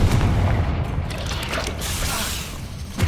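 Explosive Confringo spell blasts in the video game Hogwarts Legacy, heavy booming bursts with a mechanical rumble: a loud blast at the start, a rolling roar through the middle and another burst at the end.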